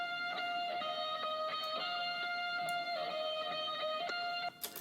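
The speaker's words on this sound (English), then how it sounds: "I actually recorded the guitars myself because I don't even know how to play guitar" A guitar sample built from single notes recorded one at a time plays a steady, evenly plucked pattern with ringing, effect-coloured sustain, clear and alone with no voices.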